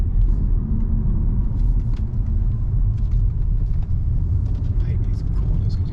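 A 2016 BMW F30 330d M Sport diesel engine gives a short throttle blip from inside the car, heard as a close, loud, deep rumbling swell over a continuous low drone while people talk.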